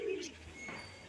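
A pair of pigeons at home give a short, soft coo, a low throaty call followed by a faint higher chirp over quiet background hiss.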